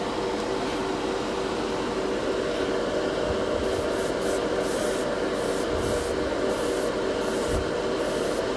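An airbrush sprays color-shift paint in a steady, fairly quiet hiss, with a few short bursts and soft bumps as the sprayer is worked from a distance over a primed miniature.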